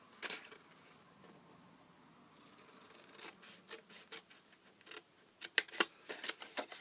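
Scissors snip and rasp through paper for a small 2 x 2 x 3 inch Easter flip top box, starting with faint rubbing, then a run of sharp close cuts in quick irregular bursts, no talking.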